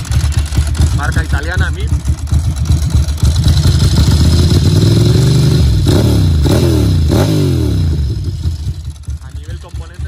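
A Ducati Monster 900 fitted with MIVV exhausts idles low and steady with a dry-clutch rattle. The engine sounds loud and close throughout, and someone talks over it.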